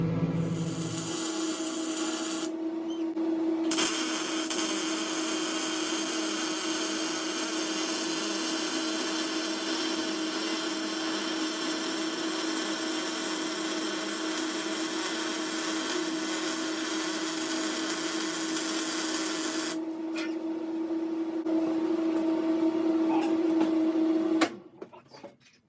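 Welding on a hand-built Baja Bug rear suspension arm produces a close, steady buzzing hiss that runs unbroken for about twenty seconds, with a short pause near the start and a sharp cutoff at the end.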